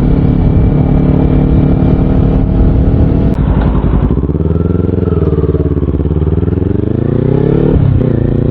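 A Kawasaki Z400 motorcycle rides along a road, its engine loud and close, with wind roar and the engine note rising and falling through gear changes.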